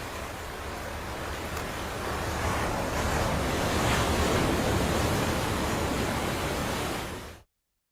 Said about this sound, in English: I left you with the actual sound of the sea over there.